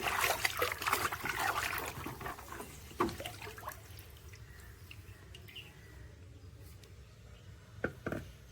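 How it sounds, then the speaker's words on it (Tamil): A new clay pot soaks in water as bubbles rise from it, giving a soft, continuous trickle with small sporadic pops and drips, fairly close and quiet, with no one speaking. "பபுள்ஸ் இன்னும் வந்துகிட்டே தான் இருக்குது."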